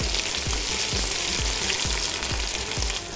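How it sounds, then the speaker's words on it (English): Onions sauté in a pan with a loud, steady sizzle, while a utensil stirs them with regular low thuds about every half second, close by. "Kita tumiskan."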